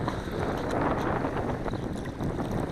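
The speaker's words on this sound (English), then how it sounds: "Oh, it's really blowing hard now." Strong wind blows at a lake, buffeting the microphone in a loud, continuous broadband roar with slight gusting surges and no clear pauses.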